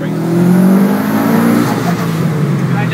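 A car accelerating on turbo boost, heard from inside as the engine drone climbs steadily in pitch, loud and close, with voices talking over it.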